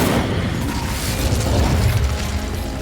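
The Incendio fire spell from Hogwarts Legacy erupts as a dense, continuous roaring whoosh with crackling bursts and a low rumble, loud and close throughout.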